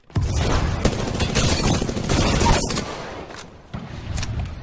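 Enemy gunfire in Apex Legends, a loud sustained barrage of shots and impacts that thins out toward the end, with no talking.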